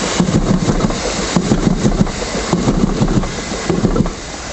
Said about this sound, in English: train now approaching platform